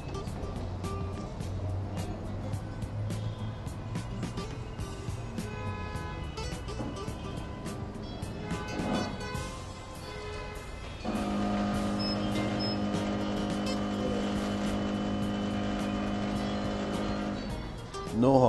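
A wheel balancing machine spins a car tire, giving a steady mechanical whir with rhythmic rumble that settles into a sustained hum with a faint tonal whine.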